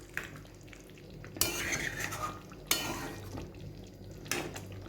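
A metal spoon stirs doi chicken with spices in a pan, giving soft scraping and a few sharp clanks against the pan over a quiet background.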